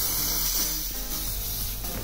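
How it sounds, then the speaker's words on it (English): A can of lubricant sprays onto a bolt during a Land Rover Discovery 2 centre diff lock retrofit, a short steady hiss, close and fairly quiet, with no talking. "Basically just get in a little bit of spray on it."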